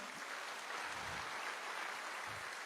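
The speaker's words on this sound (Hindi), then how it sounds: "रियल में मेरे गुरु के लिए दिल से ताली होनी चाहिए।" Faint, steady applause from an audience at a live speech event, an even wash of clapping that runs the whole time with no voices over it.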